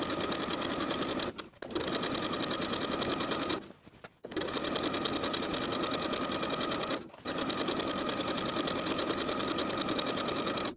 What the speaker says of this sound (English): we're going to understitch, sewing the facing to its seam allowance underneath with an 1/8 of an inch seam allowance